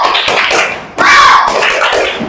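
A classroom group performs a rhythmic Indonesian spirit clap, sharp patterned hand claps close by with voices chanting along in time.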